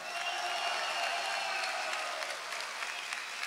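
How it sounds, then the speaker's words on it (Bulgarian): An audience at the ISFA Final Conflict fight event applauds in a dense, steady burst of clapping that holds evenly for a few seconds with no clear voices above it. "аплодисменти за Веселин"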